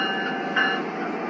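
G scale diesel locomotive sound from a TCS WOW DCC decoder, a steady engine rumble with a brief brighter accent partway through, close and continuous with no talking.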